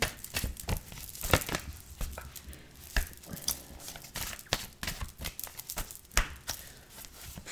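Close, crisp riffling and shuffling of a deck of cards, fast bursts of papery flicks and slaps coming in uneven clusters throughout, with no voice.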